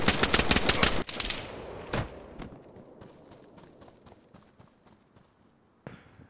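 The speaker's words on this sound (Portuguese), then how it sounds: "tem um sniper atirando" Sniper rifle shots in DayZ, a burst of sharp, rapid cracks at the start followed by scattered single reports fading into quieter ambience, with one more loud shot near the end.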